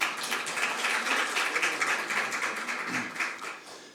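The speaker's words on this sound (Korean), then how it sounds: "여러분 다시 한번 큰 박수 부탁드립니다" Audience applause at a Korean National Assembly public hearing on an income-protection law for child entertainers: a dense, steady wash of many hands clapping for about four seconds, fading slightly at the end.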